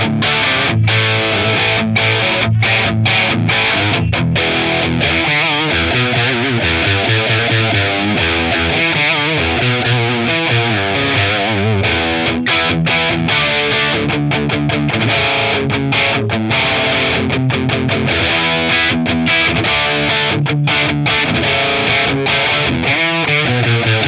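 A Mesa Dual Rectifier guitar amp captured on its EL34 crunch channel, Channel 2, bright set to 7, plays loud distorted electric guitar, with chunky rhythmic chords and short muted stops, dense and continuous throughout.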